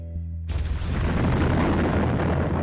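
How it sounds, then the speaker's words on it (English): An underground nuclear explosion at the Lop Nor test range in western China sets off a sudden deep boom that becomes a sustained heavy roaring rumble, loud and dense, after a low hum. "An underground nuclear explosion on the Lop Nor test range sends shockwaves through the Earth."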